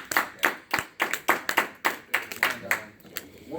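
Applause from a seminar audience on home buying and credit repair, heard as sparse, uneven hand claps from a small group that rise in bursts and thin out over a few seconds.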